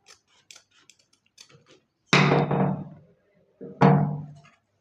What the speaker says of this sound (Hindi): अब हम इसको सीजर की मदद से काट लेंगे।